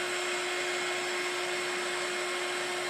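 A heat gun blows hot air onto a card for colouring, a steady, even whooshing hum with a constant tone, close and continuous throughout with no talking.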